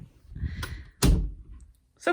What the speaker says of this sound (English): Here, let me close the door.